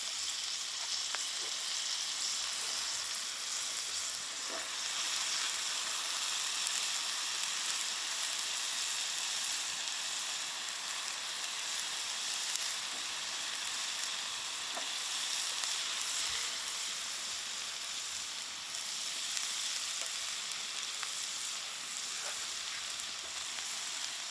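Onions fry in oil in a pan, sending up a constant close, even sizzle with faint crackles and the odd light stir or tap, and no talk.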